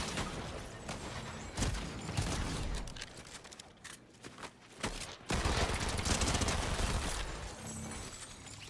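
Fortnite gunfire in a Chapter 5 Season 4 match against bot players: dense bursts of automatic weapon fire with single cracking shots, a brief lull in the middle, then sustained rapid fire to the end.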